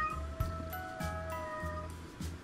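A pet cat meows several times in a row, a few short tonal calls close by in a quiet indoor room with no talk.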